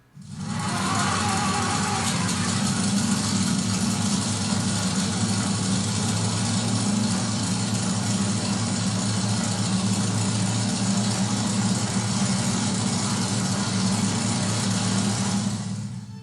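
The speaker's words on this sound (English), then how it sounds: "Now for you to hear the incredible sound of the Ford GAA 18-liter V8 engine." A Sherman tank's Ford GAA 18-liter V8 engine runs steadily, a deep, loud rumble that holds constant from start to finish with no voices.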